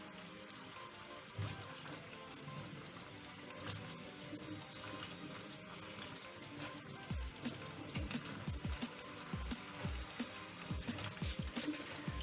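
Running water flows steadily, with soft splashes and rustling as corn husks are rinsed by hand under a tap.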